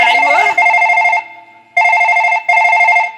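A telephone rings after a call is placed during a Chhattisgarhi nacha comedy stage performance: a short voice is heard first, then steady electronic ring bursts separated by brief pauses, loud and close.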